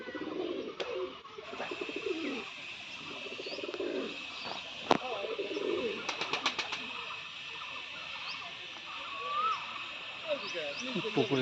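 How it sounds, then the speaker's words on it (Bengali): Pigeons cooing softly beside a tree-lined bridge at a zoo, a low murmuring coo among other faint bird calls over a steady outdoor hum, with a few sharp clicks. "এখানে কিছু কবুতর আছে।"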